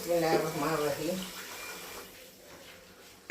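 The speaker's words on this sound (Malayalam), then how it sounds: "എന്നിട്ടാ നമ്മൾ ഇതിലേക്ക് ഒരു പാട്ടക വെള്ളം ഒഴിക്കണേ." Water is poured from a tin measure into a cooking pot to boil rice, a gurgling splash that fades over a few seconds, with a voice briefly heard at the start.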